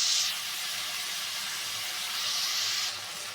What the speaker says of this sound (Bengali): এটা একটু ভেজে নেব ভালো করে